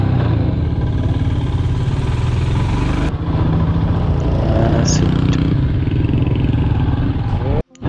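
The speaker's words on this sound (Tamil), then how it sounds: "இப்படி ஏறுதுன்னு பாருங்களேன். ஃபஸ்ட்டு கீர் தான், நியூட்ரல் வேறு விழுந்துருச்சு பைக்கில்." A motorcycle engine labours steadily in first gear up a steep hill road through Mulli forest on the way to Manjoor, a constant loud near drone with wind buffeting, and a voice talking over it.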